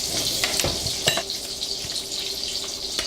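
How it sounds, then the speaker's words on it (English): Sage leaves sizzle and crackle steadily in a hot pan, close up, with a few clinks of a utensil against the pan. "Still frying up."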